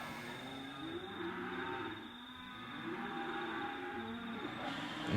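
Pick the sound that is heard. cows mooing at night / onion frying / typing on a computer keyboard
cows mooing at night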